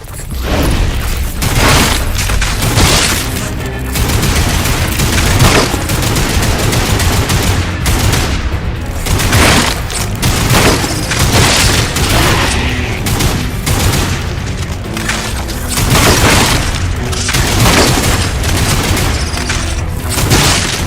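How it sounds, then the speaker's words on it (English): Dense, continuous video-game combat from Lost Planet 3: rapid gunfire, machine-gun bursts and heavy explosive booms pound away loudly and without pause, with no talking over the battle. "Some shooting there."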